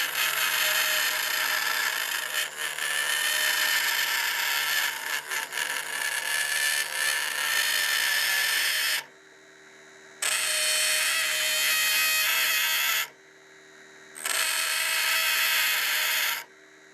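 Mini wood lathe (bead lathe) cutting a spinning wooden workpiece with a flat tool, a steady loud whirring scrape broken by two brief pauses as the tool lifts off while the motor hum continues.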